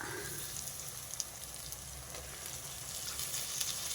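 Cut potatoes that had been soaked in water sizzle in a hot pan, a constant, fairly quiet crackle and hiss with small pops, with no one talking.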